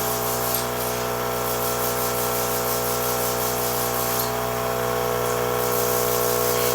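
Airbrush spraying makeup onto a client's face: a steady, continuous hiss of airflow with a constant compressor hum underneath, loud and close, running without pause.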